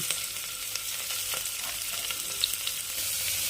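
Onions frying in a pan for Tamil Nadu style kushka give a steady, close hiss of sizzling oil, with faint clicks of stirring scattered through the few seconds.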